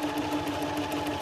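A Toyota Oekaki sewing machine stitching gently, a steady close motor hum with a rapid, even needle rhythm, alone and unbroken.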